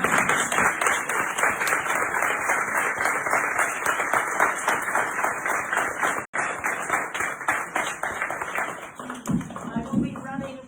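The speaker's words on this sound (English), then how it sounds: "please help me welcome Margaret Fabrizio with a thunderous" Audience applause welcoming artist and storyteller Margaret Fabrizio at an event, dense steady clapping from a sizable crowd that continues without letup for about ten seconds.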